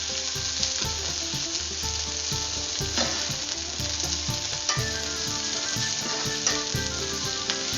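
Onion frying in a pan for fish adobo (adobong isda), a steady loud sizzle with stirring scrapes running throughout, no voices.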